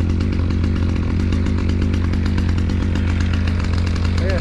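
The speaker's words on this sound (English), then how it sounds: "And the chainsaw running." A chainsaw runs steadily at close range while cutting logs of big, gnarly wood in cold weather, its loud buzzing engine drone continuous throughout with no pauses.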